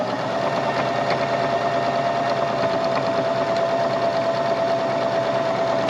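A sewing machine runs steadily and loudly, stitching a seam along a multimeter case in a garage workshop, with a continuous even whir and no pauses.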